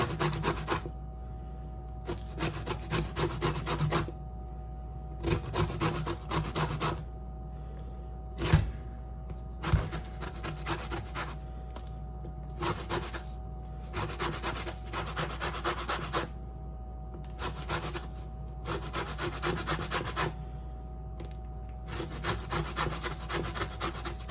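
A lemon is zested on a grater for lemon raspberry bars, its peel rasping in steady repeated strokes with short pauses between bursts, close and clear with no talking.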